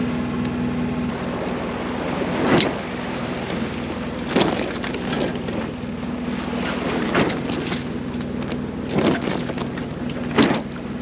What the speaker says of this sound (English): we're doing between like 5 and 6 knots with the following seas and the motor going